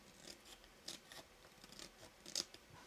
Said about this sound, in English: we're going to trimming the extra card